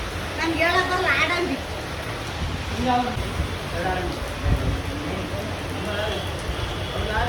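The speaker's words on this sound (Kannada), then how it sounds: "ನೋಡ್ರಿ ಈಗ ಮಳೆ ಜಗ್ಗಿ ಬರ್ಲಾತದ" Heavy rain pours down steadily in a broad hiss while people talk over it nearby.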